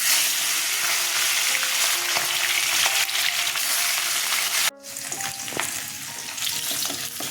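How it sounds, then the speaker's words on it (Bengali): Small charapona fish fry in hot oil in a wok, making a loud, continuous, close sizzle that cuts off abruptly and then resumes with occasional clinks; no voices. "কড়াই গরম হয়ে গেছে, তেল দিয়ে দিচ্ছি, মাছগুলো ভেজে নেব।"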